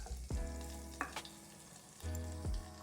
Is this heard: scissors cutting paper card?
no